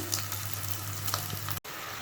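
A steady sizzle of paneer balls frying in hot oil, crackling continuously with faint pops, cut by a brief dropout near the end.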